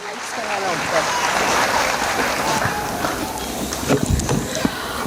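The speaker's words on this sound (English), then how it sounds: "Parents, have a big round of applause for our principal ma'am CBSE, Mrs. Chetna Patel." Parents in a school hall at an annual CBSE fiesta for grades 1 to 4 give the principal a round of applause, a broad patter of clapping with crowd murmur mixed in and a few louder claps toward the end.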